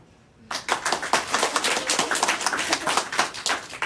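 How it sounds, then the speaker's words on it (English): An audience at a lunchtime poetry reading in a library bursts into applause after a moment of quiet, a lively patter of many hands that stays brisk and even until the end. "please clap"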